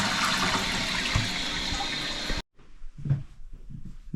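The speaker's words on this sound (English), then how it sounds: "give it a flush, and hopefully it'll" A toilet flushes with a loud, sustained rush of water, then cuts off abruptly and gives way to the quieter gurgling and trickle of the cistern refilling after its float was adjusted.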